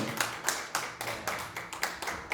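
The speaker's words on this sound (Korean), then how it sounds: "박수 쳐주세요" An audience at a Uijeongbu Christian pastors' and elders' prayer fellowship New Year gathering claps in a steady, even rhythm, with about a dozen crisp beats over two seconds, at moderate volume and with no talking.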